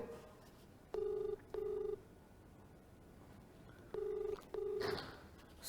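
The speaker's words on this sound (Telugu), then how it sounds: "లావణ్య ఫోన్ రింగ్ అవుతోంది." Ringback on an outgoing phone call: two double rings, each pair of short tones spaced about three seconds apart, clear over a quiet background with faint distant noise.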